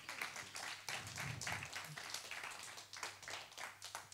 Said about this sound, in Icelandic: Hvernig var að gefa þessum snillingum aftur gott klapp?